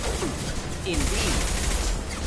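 Sci-fi gunfire and combat effects from the video game Mass Effect 2 Legendary Edition make a dense, steady battle clatter with a noisy, continuous wash of shots throughout.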